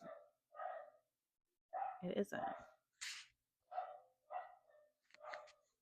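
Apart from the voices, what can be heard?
dogs barking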